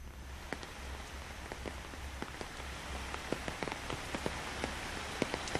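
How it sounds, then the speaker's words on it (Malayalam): Heavy rain pours down steadily in an Ergonomic city district of Ernakulam, Kerala, a dense continuous hiss with scattered sharp drops striking hard surfaces close by, no voices. "എറണാകുളം ജില്ലയിലെ നഗരപ്രദേശങ്ങളിൽ ഇപ്പോഴും കനത്ത മഴ തുടരുകയാണ്"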